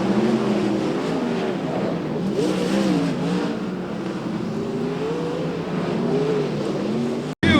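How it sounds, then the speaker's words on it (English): Dirt track race cars circle a speedway in Watsonville during a late-race spin; engines whine and rise and fall continuously at a distance, several cars blending into one droning, revving roar. "The 15P of Pierce spins and collects the 51 of Weir with 7 to go."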